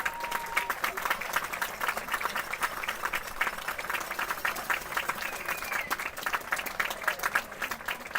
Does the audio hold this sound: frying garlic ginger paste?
no